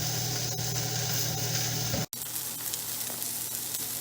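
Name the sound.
pork chops sizzling in hot pan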